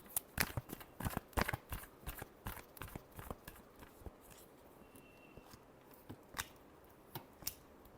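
Tarot cards being shuffled in a series of quick, crisp riffling bursts and slaps, close and fairly quiet, with irregular pauses between strokes and no talking.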